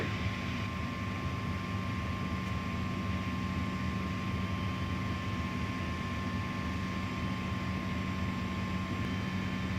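Steady, loud droning helicopter cabin noise about 500 feet above the ground, with a constant engine hum and broadband roar, unchanging throughout.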